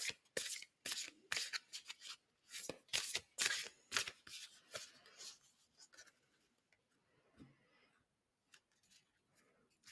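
Tarot cards being shuffled and cut by hand: close, crisp riffling flicks and papery slaps in quick irregular bursts, fading to softer occasional card sounds near the end.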